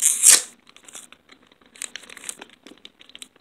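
A CP01 Burning Valor trading card pack is torn open with a loud close rip, followed by scattered crinkles and rustles of foil wrapper being handled.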